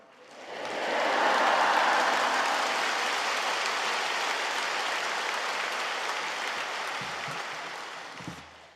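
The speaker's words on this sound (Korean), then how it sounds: "우리 할렐루야로 또 박수로 우리 목사님 기쁨으로 맞이하겠습니다." A large church congregation at a Wednesday service at Yoido Full Gospel Church applauds to welcome a pastor, a dense roaring swell of clapping that rises quickly, holds, then slowly fades near the end.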